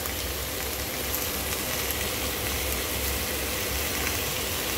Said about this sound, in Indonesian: dan sekarang saya akan masukkan sos tiram.